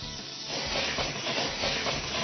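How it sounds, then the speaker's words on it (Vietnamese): Red wine poured into a hot pan of seared beef rolls, giving a loud, steady hiss and sizzle that swells and holds throughout. "bây giờ kế tiếp anh sẽ cho một ít rượu vang đi vào"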